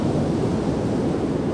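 Ocean surf rolls at the beach where a barrel wave is forming, a dense, loud roar of breaking water mixed with wind buffeting the microphone.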